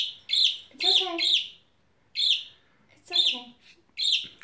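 Two pet birds, one eight months old, chirp and squabble indoors in an argument, giving bright, sharp tweets in short repeated bursts close to the listener.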